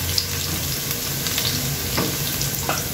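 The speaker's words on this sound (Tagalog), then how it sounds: "unahin natin yung pagigisa ng bawang. 5 butil ng bawang to." Five cloves of finely minced garlic sautéing in a pan, a dense, even sizzle heard up close with light stirring clicks throughout.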